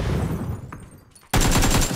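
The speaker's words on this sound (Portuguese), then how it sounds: "Na frente da casa, ele tá tomando tiro." Gunfire in a first-person shooter video game: a quieter stretch of distant noise, then a sudden loud burst of rapid shots that continues to the end, with no talk over it.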